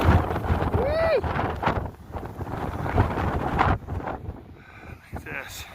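Wind gusting across an exposed mountain trail lined with red briar during an Appalachian Trail thru-hike, a steady blustery roar against the microphone that swells and eases, with a person speaking over it.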